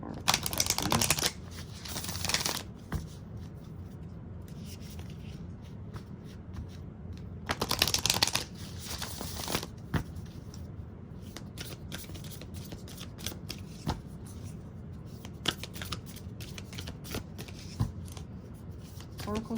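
Oracle cards are shuffled by hand in two loud flurries of riffling and flapping, followed by quieter card handling and taps, with a voice speaking softly at times.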